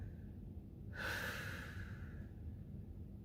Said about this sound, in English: Taking nice big inhale through your nose, filling up the belly, and then a strong exhale